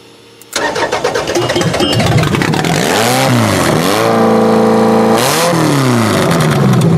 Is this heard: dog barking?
no